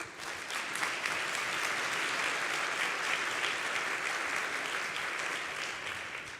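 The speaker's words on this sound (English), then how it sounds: "If we could have a short round of applause, please." An audience at a conference interpreting town hall in Geneva claps steadily for several seconds, a dense, even round of applause that fades slightly at the end.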